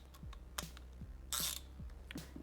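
A lock nut on a BMW G310R motorcycle brake lever being tightened with a 4mm hex bit, giving close, quiet ratcheting clicks and small metallic ticks in an uneven rhythm, with one brief louder rasp.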